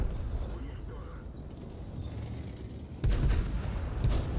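A T-54 tank's cannon in World of Tanks fires with a sudden loud, deep blast about three seconds in, then a rumbling echo and a second hit, over a quieter engine and battle background with someone talking.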